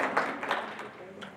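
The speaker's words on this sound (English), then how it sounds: "I'm going to clap for you guys." An audience claps along at a talk, a short burst of dense, crowd-wide applause with a voice carrying over it.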